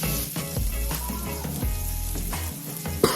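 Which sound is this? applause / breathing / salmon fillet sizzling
salmon fillet sizzling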